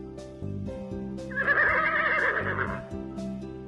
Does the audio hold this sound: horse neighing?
yes